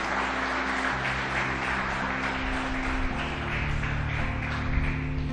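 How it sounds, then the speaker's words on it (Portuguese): A church congregation claps together in a dense, steady wash of applause that carries on evenly, with a sustained low musical tone running underneath. "Você pode aplaudir por isso?"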